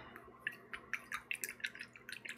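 A paintbrush swished in a water cup makes soft, close drips and light splashes in an uneven flurry over a couple of seconds, quiet and isolated.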